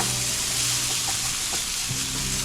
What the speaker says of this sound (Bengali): এই সবগুলোকে আমি একটু ভালো করে ফ্রাই করব